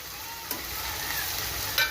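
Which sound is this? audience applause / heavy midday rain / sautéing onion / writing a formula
sautéing onion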